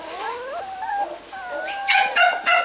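A Rottweiler puppy makes high, wavering whining and yelping sounds up close, with a few sharper yips toward the end and no one talking.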